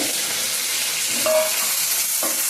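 Chopped onions going into a pan of frying green tomatoes for a pounded chutney, a steady close sizzle and hiss with a couple of light stirring scrapes, no talk.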